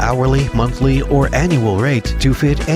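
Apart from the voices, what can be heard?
No everyday noise stands out behind the speech.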